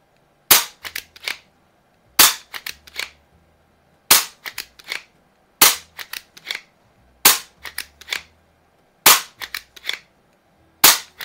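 A Hatsan Jet 2 pump-action air rifle fires six sharp, loud shots at close range, about every two seconds. Quicker clicks and clacks of the pump and action follow each shot.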